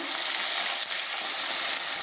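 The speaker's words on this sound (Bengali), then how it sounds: "আমার এগুলো সব ভাজা ভাজা হয়ে গেছে।" Ingredients for an egg masala curry frying in a pan, giving a dense, continuous close sizzle that stays loud and even throughout, with no talking.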